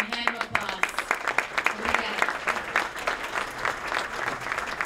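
Gala audience applauding at a Padre Pio event: sharp, distinct hand claps in an uneven rhythm, blending into a steady round of moderate clapping from the crowd.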